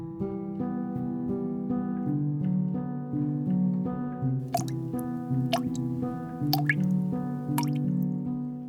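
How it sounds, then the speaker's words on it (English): Water drips from a leaking ceiling into a small bucket, each drop landing with a clear ringing pling, the drops spaced irregularly and growing sharper in the second half over a steady musical backdrop. "collecting drips from the ceiling, the pling of each drop hanging in the stale air"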